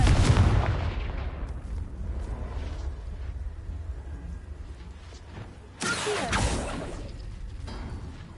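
A Confringo fire spell exploding in Hogwarts Legacy: a heavy blast opens, followed by a low rumbling tail, then a second loud burst with debris-like crackle a few seconds later.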